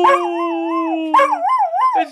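A dog howls close and loud in two long, wavering, sung-sounding tones with a brief break between them, in an indoor Christmas setting.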